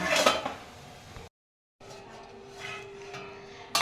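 A lid comes off a cooking pot of doi ilish, hilsa fish in yogurt, on a gas stove: a short, loud metallic clatter at the start, a brief silence, then a steady low hiss with soft clinks.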